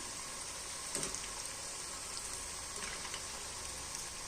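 Cabbage vadas frying in hot oil give off a steady, quiet sizzle that runs the whole time, with a few soft bubbling bursts and no one talking.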